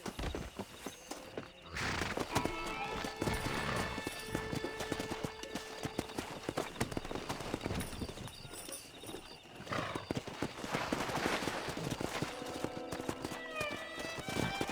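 Horses in Red Dead Redemption trot and gallop with steady clip-clop hoofbeats, joined by an occasional whinny, over game music and ambient noise throughout.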